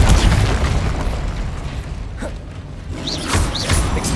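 Incendio fire spell blast in Hogwarts Legacy, a booming burst that opens loud and then rolls into crackling, whooshing fire noise, with brief sharp spell zings later in the clip.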